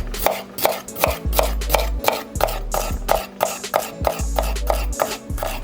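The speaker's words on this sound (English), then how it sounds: "we're gonna do our celery, and same thing, rough style, bite-sized chops" Celery being chopped on a cutting board into rough, bite-sized pieces with a knife, giving a steady run of close, sharp knocks about two per second against a low background hum.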